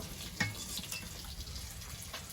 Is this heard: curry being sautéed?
yes